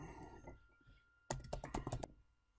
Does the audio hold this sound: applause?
no